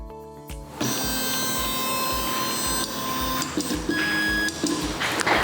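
An Algolaser DIY 5W laser engraver powers on with a steady, loud mechanical whir and rhythmic stepping hum, tonal whines layered over it and small shifts as the machine runs alone.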